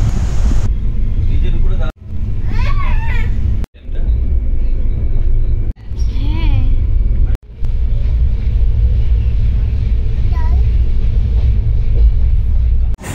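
Inside a moving passenger train in India, a loud, steady low rumble of the carriage runs throughout, cut by several brief dropouts, with a voice talking in places over the rolling noise.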